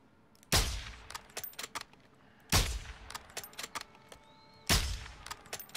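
Three heavy booming shots land about two seconds apart in the Modern Warfare 2 campaign, each followed by a decaying rumble and scattered sharper cracks, moderately loud with no talking.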